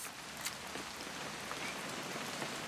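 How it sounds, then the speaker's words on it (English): Steady rain falls in the video game What Remains of Edith Finch, a dense, even patter of drops on surfaces forming a continuous hiss with occasional louder splashes, and no speech. "It's gonna rain the whole weekend, isn't it?"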